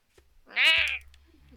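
A single drawn-out video game cat meow, close and clear, rising then falling, with a low electronic hum continuing afterward.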